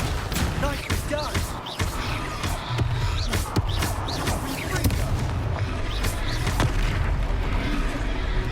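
Confringo blasting spell explosions in the Hogwarts Legacy video game, a rapid series of loud booms and bursts with sharp crackling impacts, mixed with shouting voices and battle clatter.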